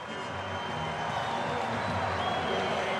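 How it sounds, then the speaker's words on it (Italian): Juventus supporters applaud Roberto Pereira's goal against Sassuolo at the Mapei Stadium in Reggio Emilia, a steady, distant crowd roar of clapping and cheering filling the stadium without a break. "gli applausi del pubblico di Fede Bianconera per Roberto Pereira"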